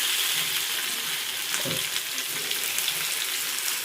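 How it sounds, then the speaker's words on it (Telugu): Fish pieces for a masala fish fry set into heated oil, a continuous bright crackling sizzle with a brief thud of a piece going in, close and steady with no talk. "ఇప్పుడైతే మనము ఇక నూనె అయితే కాగింది, చేప ముక్కలు అయితే పెట్టేసుకుందాం"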